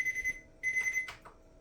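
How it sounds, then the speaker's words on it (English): A kitchen timer rings in two short bursts of steady, high electronic beeping separated by a brief pause, followed by a couple of faint clatters in a quiet kitchen. "Oh, there's my timer."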